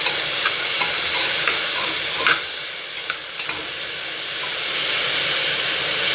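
Mixed vegetables frying in a pan for vegetable biryani are stirred, a loud, constant sizzle and hiss with occasional scraping clicks of the spoon, no voices.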